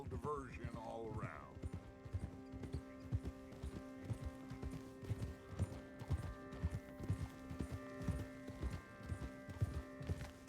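Horse hooves clopping in a steady rhythmic walk in a video game, close and distinct over a humming background, with a voice briefly speaking at the start.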